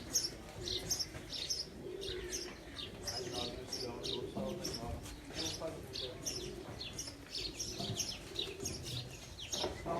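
Pigeons landing at a loft coo softly amid scattered chirps and fluttering. The sound is faint and continuous, with people talking in the background throughout.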